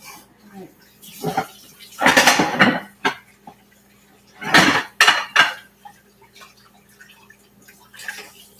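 Dishes clatter in a home kitchen during cooking, with ceramic and metal clinks and knocks in several bursts, some close together and some spaced apart, against faint background noise and no talk.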